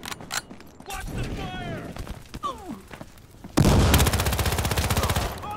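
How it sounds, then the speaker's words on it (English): Rapid automatic gunfire from Battlefield Hardline, a dense burst of repeated shots that starts halfway through and stays loud to the end, with voices and game sounds before it. "Who the hell is shooting me?"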